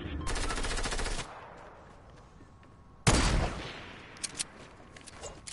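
Rapid automatic gunfire from a Fortnite match, with a long burst of shots, a pause, then a second loud burst and scattered single shots fading off.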